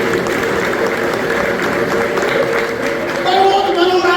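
Church congregation clapping together, a dense steady wash of applause from a crowded hall while a preacher's voice continues over it.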